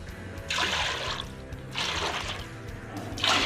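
Water being poured into a cooking pot to boil soaked basmati rice for chicken biryani, in three separate splashing bursts of pouring, close and fairly loud.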